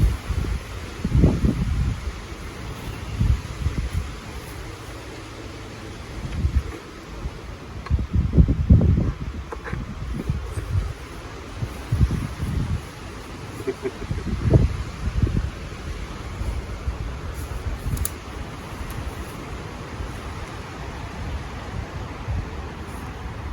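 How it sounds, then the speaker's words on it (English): Wind gusts outdoors around a ridged tent on a windy day, with irregular buffeting rumbles and rustling that rise and fall over a steady hiss, with no voices. "it's a pretty windy day today"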